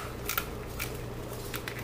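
Clean kitchen scissors snipping down the back of a seafood shell while preparing a seafood boil, a few quick crisp cuts over a low steady hum, close and fairly quiet.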